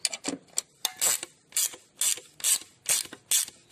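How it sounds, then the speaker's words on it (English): Valve spring compressor being released on an engine cylinder head, a series of sharp ratcheting clicks in quick irregular bursts, close and fairly loud with no talk. "Now I can release the spring."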